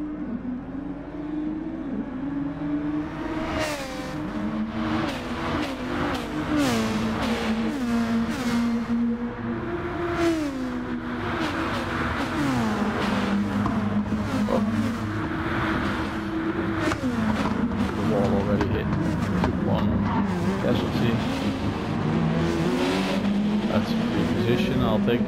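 Race cars lapping the Sardegna circuit in a racing game, engine climbing and dropping through gear shifts with repeated revving sweeps, steady and close, while someone talks over it.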